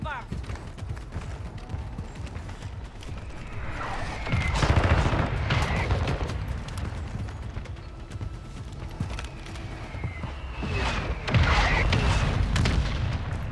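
Mortar strike explosions in Call of Duty: Warzone boom twice, a few seconds apart, amid gunfire and battlefield rumble, with voices heard over the combat.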